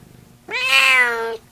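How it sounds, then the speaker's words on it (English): A single pet cat gives one clear, close meow of about a second, rising and then holding steady, heard alone in a quiet room. "I love my cat."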